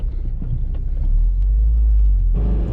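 A 2007 Honda Civic Si with about 200k miles rumbles steadily through a U-turn, its engine and road noise loud and close. A brief swell rises near the end.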